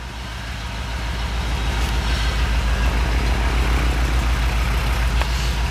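A 1956 Oldsmobile Super 88 V8 idles in a showroom, a steady low rumble with an even, throbbing pulse that holds close and loud throughout.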